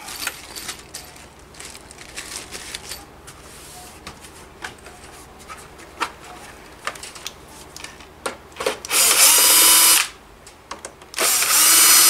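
A power screwdriver backs screws out of a PS5 console during an HDMI port repair, giving a few short whirring bursts followed by two longer, louder sustained runs close by, with faint clicks and handling between them.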